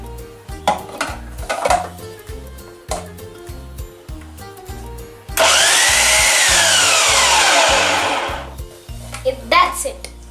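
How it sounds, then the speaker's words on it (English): A kitchen mixer dry-mixes whole wheat flour, maida, baking powder, baking soda and salt, a loud steady whirring burst of about three seconds that rises abruptly and cuts off, set between quieter intermittent clinks and taps. "I'm going to dry mix it just for a second so all the ingredients get mixed up well."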